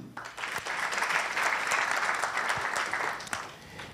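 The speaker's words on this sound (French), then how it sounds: "On applaudit." An audience at a business support programme event applauds an introduced guest, a full round of clapping swelling quickly and holding steady for a few seconds.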